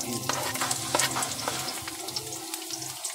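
Garlic fries in a pan with a lively crackling sizzle, and a utensil stirs and scrapes now and then before the sizzle fades near the end.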